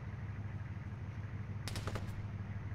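Brief burst of automatic gunfire in the military shooter ArmA, a quick cluster of sharp cracks lasting about half a second over a steady low engine-like hum, fairly distant and moderate in level.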